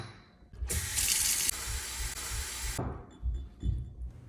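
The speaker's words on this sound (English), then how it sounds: "Now that I've filled up those two water cups" Tap water runs strongly into cups meant for watercolor painting, a steady loud rushing pour of about two seconds that cuts off, followed by light clinks and handling sounds.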